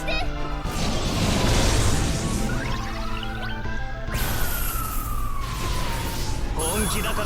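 An emergency siren wails in the background, its long rising and falling tone running steadily under loud game music and sound effects, with someone speaking over it.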